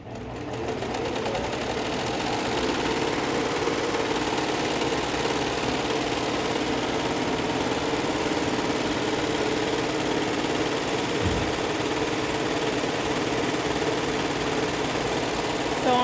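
A Barudan embroidery machine runs steadily as it stitches, giving a continuous close, even mechanical whir with a fast repetitive needle rhythm throughout, with no talk over it.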